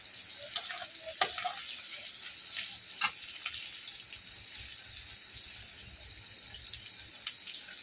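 Chopped carrots frying in a pan for restaurant-style chow mein, a low continuous sizzle with occasional sharp clinks and scrapes of a spatula stirring, fairly quiet and close, no voices.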